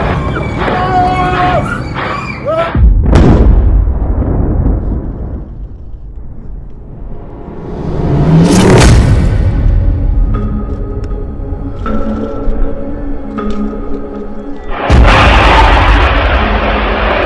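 Israeli strikes in Lebanon: loud booming blasts and sharp bursts mixed with screaming and raised voices, several impacts spread over the scene with chaotic crowd noise between them.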